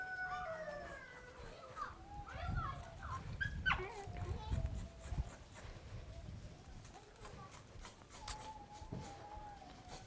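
A dog whimpers and yelps with thin, rising cries amid outdoor noise with chickens and roosters in Fiji, while people talk nearby.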